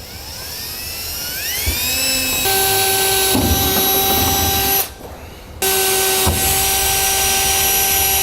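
Power drill with a 1/8 inch bit boring holes in tin plate during a gooseneck trailer hitch install on a 2015 Chevrolet, a high whine that winds up, runs steady, cuts out briefly, then resumes loud and close.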